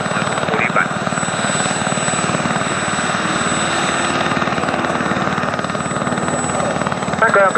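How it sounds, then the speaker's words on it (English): A Gazelle helicopter, serial XZ934, runs its engine on the ground at the RIAT Fairford airshow before lift-off, giving a loud, steady turbine and rotor roar throughout, with faint voices underneath. "Gazelle is ready to lift"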